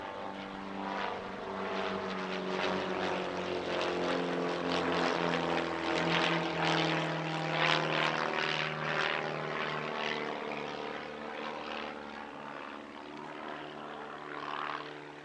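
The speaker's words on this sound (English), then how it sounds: "In the lead, a Pitts S1S, and it's followed by a twin-seat Pitts S02AE" At an airshow, a Pitts S1S and a twin-seat Pitts S2 aerobatic biplane fly a display together, their propeller engines droning loudly in a sustained, rising and falling pass with no voices.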